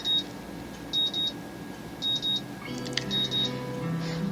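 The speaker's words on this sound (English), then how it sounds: "The sound of an alarm pulls me out of a fitful slumber and into the unpleasant state of wakefulness." An alarm clock in the visual novel Katawa Shoujo beeps in short repeated bursts of paired tones, spaced about a second apart, fairly clear over a low hum.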